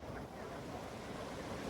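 A fast-flowing, silt-laden river rushes in a broad, steady roar, loud and close, with wind buffeting the microphone and no distinct talking.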